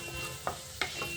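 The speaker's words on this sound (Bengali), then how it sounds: "এরকম বেশ ভাজা ভাজা হয়ে যাচ্ছে রসুনটাও।" Fenugreek seeds and garlic fry in hot oil in a pan, giving a steady close sizzle broken by two sharp spatula scrapes as the pan is stirred, with no talking.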